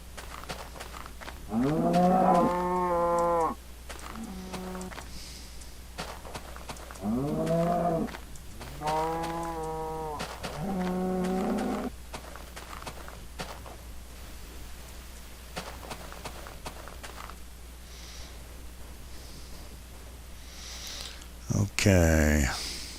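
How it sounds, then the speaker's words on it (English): Cows moo in the video game Minecraft, several drawn-out bovine calls in separate bursts over a quiet hum, with a sharper sound near the end; no one talks over them. "And more cows."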